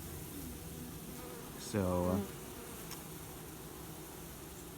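A honey bee from a swarm being installed into a Langstroth hive flies close by with a short, loud buzz. It stands out over a faint outdoor hiss, and a voice says a single word.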